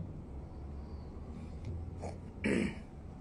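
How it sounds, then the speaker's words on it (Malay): A single close throat clearing, brief and raspy, after a few seconds of quiet room tone. "kering tekak macam nak batuk"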